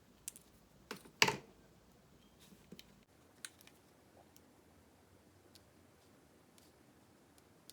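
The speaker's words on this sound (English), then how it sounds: "Just give a little snip." Scissors snip cardstock while a Christmas card is being made, giving a few quiet, sharp clicks close by, with one louder snip near the start and faint ticks afterward.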